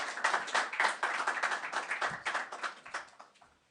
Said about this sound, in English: Can I ask just for a warm round of applause for him